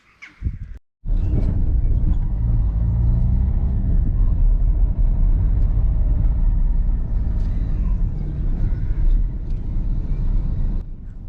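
A car drives along a country road near Beningbrough, giving a steady, loud engine and tyre rumble that runs unbroken after a brief pause at the start.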